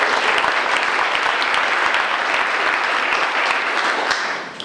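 A community crowd at a summer crime-plan meeting gives loud, sustained applause for the chief of police, a dense wash of clapping that tapers off at the very end.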